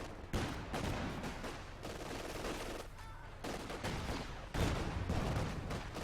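Sustained bursts of gunfire from an MG42 machine gun in Company of Heroes 2, loud and dense, with rattling volleys that pause briefly around the middle and resume in heavier bursts.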